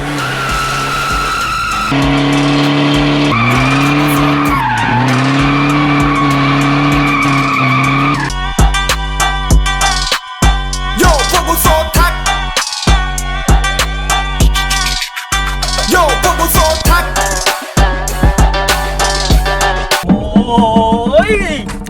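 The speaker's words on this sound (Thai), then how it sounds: "มันต้องเบรกกันขนาดนี้เลย" A race-tuned car on an aluminium-upgraded suspension brakes hard, tires skidding and squealing in a series of loud, drawn-out screeches with engine revving between, close and dominant.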